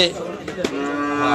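A cow gives a long, loud moo close by at a cattle and goat market, with faint background noise of a busy outdoor crowd.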